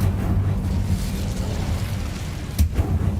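A fiery burst from the Incendio spell in Hogwarts Legacy: a low rumbling whoosh with a sharp pop and flare near the end, loud and close, with no talking.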